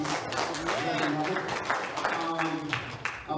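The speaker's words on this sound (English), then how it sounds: "I'll give a round of applause." Church congregation at a Mother's Day song service gives a round of applause, dense clapping rising under a voice speaking over it.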